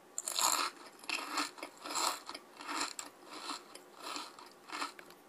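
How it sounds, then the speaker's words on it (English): Giraffes chew grass up close, a steady rhythmic crunching with about eight grinding bites in a row and no voices. "The giraffes chew the grass."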